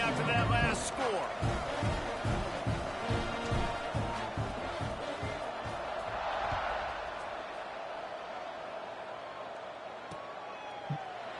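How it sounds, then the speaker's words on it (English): Stadium crowd buzzing after a 51-yard touchdown run in a college football video game with an SMU dynasty facing Miami: a dense, steady roar under thumping hits and game sounds, fading slightly toward the end. "this crowd is buzzing after that last score"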